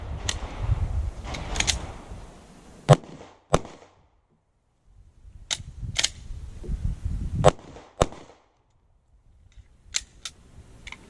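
A jammed firearm is reloaded at a tactical shooting range: sharp metallic clicks and clacks of the action being worked come in scattered bursts, with handling rustle and low background noise between them.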